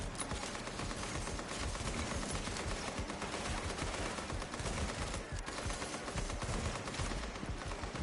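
Automatic gunfire rattles almost nonstop through a PvP firefight in The Division, dense and loud bursts layered over each other across the whole stretch.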